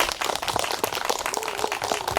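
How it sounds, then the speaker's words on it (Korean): Audience clapping at a Korean lecture on the I Ching, as a teacher is welcomed to speak; a dense, steady round of applause from a room of people, moderately loud throughout. "박수 주세요."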